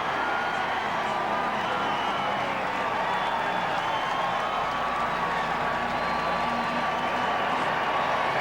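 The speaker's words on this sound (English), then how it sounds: "Hey, listen to the crowd." Crowd at a NASCAR Winston Cup race at Atlanta cheering and applauding after an emotional win, a dense, steady roar of clapping and shouting that fills the whole stretch without letup.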